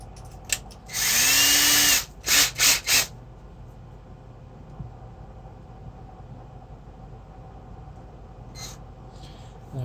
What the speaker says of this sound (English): I'll have to do it with a drill.